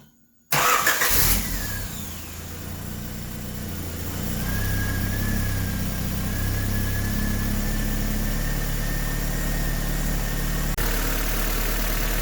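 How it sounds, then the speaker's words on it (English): A 1988–91 Honda Civic with a repaired leaking exhaust header cranks briefly, fires up and settles into a steady idle, heard close and alone with no talking. "So we're gonna fire up the car and see if there's any more exhaust leaks."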